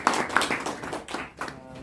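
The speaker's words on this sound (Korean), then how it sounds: "박수 한번 치겠습니다." Brief, close audience clapping at a poetry book launch in the Kyobo Bookstore hall, a quick scatter of hand claps lasting under two seconds.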